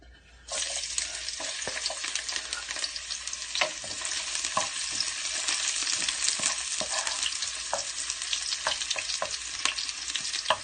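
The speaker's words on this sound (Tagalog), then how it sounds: "Pag kumukulo-kulo na, ibig sabihin, mainit na yung mantika natin. So, pwede na tayong mag-gisa." Hot cooking oil sizzling in a pan as ingredients are sautéed for Filipino-style chicken curry, a sudden loud burst of frying followed by a continuous crackling hiss with scattered pops and scraping stirs.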